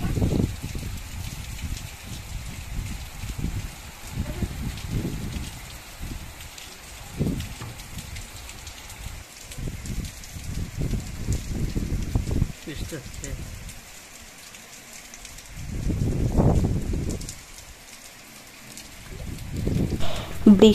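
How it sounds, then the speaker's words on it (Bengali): Heavy rain falls during a strong storm with gusting wind, a constant hiss broken by louder rushing surges, while a person talks over it at intervals. "দেখো বন্ধুরা, কত জোরে জোরে ঝড়,"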